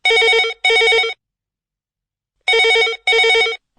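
A telephone rings loud and close: two quick trills, a pause of over a second of silence, then two more trills.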